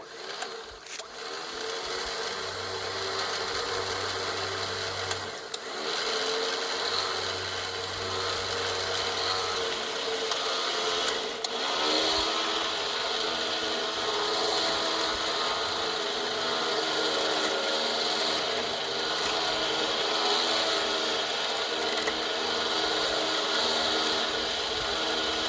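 A Traveller 9000lb winch mounted on a Kubota LX2610 tractor strains to drag boulders, giving a steady mechanical whir and grinding with faint ratcheting clicks. Engine drone continues underneath for the full stretch, close and fairly loud.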